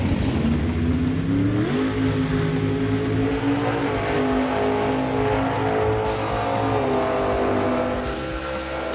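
A 1967 Chevy Camaro launches down a drag strip, its engine roaring loud and close as it revs through rising gear pulls with tire noise, sustained without a break.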